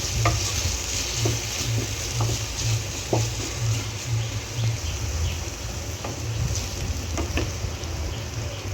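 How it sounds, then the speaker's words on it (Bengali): Capsicum, beans and carrot fry in a little oil with a continuous sizzle and occasional stirring clicks, over a low rhythmic hum, with no voices. "ক্যাপসিকাম, বিনস, গাজর হালকা একটু তেলে ভেজে নেব।"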